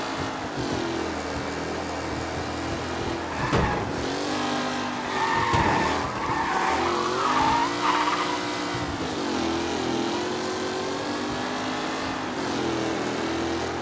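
Race cars in Mafia Definitive Edition, led by Tommy Angelo's car, roar continuously with engine drone, tire squeals and skids, swelling in the middle as the cars slide.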